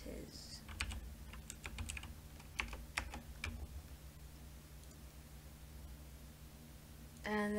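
Someone types on a computer keyboard in quick, light bursts of clicking keystrokes over a quiet room hum. The typing pauses after a few seconds, and a brief louder rustle follows at the end.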